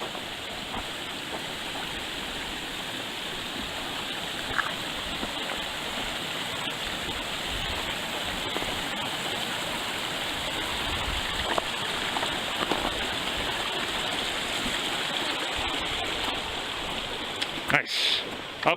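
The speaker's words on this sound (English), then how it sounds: "We have our first brook crossing of the hike." A brook flows at a crossing on a winter hike along the Franconia Ridge, its steady close rushing wash running the whole time with a few faint clicks and bumps.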